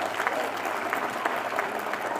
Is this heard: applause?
yes